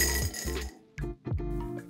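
Ice cubes are tossed into a glass, clinking sharply in a few quick bursts close by, with hard knocks and rattles as they settle.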